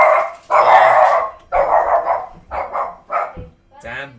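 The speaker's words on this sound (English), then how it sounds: "Damn dog." A dog barks loudly and close by, five or six deep barks in an uneven series with short gaps between them.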